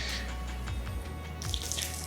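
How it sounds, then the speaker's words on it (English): Water splashes and trickles steadily from a towel being wrung out while detailing a wrapped Maserati, a close, continuous running-water sound with no talking. "Now, I'm wringing out the towel to get the extra liquid out of it"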